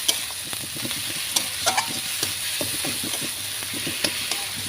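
A spoon stirs boiled cabbage frying in a pan, giving a steady sizzle broken by repeated soft scraping and clinking strokes close by.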